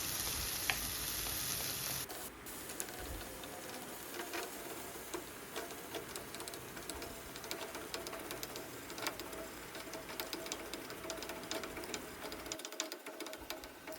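Food is stirred and fried in a pan, a constant bright sizzle with rapid scraping and ticking strokes of the spoon going on throughout, steady and fairly close, no talking.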